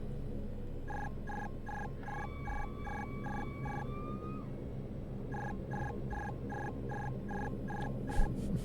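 Cockpit alert in a SAAB 340 in the X-Plane 11 flight simulator: a steady run of short, evenly spaced electronic chirps in two bursts, ringing almost like a telephone, with a few rising whistle tones between them and a constant cabin hum beneath.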